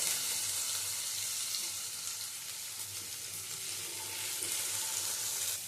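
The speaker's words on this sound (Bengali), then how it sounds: "গাজরটা দিয়েও নেড়ে চেড়ে নিয়ে দিয়ে দেবো এর মধ্যে বিনসগুলো" Carrots and beans frying and being stirred in a pan, a dense, continuous sizzle with a low steady hum underneath and no voices.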